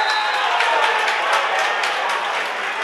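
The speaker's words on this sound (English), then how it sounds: "It's actually a massive crowd here, Peter, for an intermediate semi-final." A large crowd at an intermediate hurling semi-final between Oulart The Ballagh and Buffers Alley gives off a dense, steady roar of cheering and scattered clapping that carries evenly for about three seconds.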